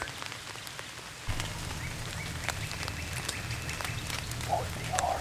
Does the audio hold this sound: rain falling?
yes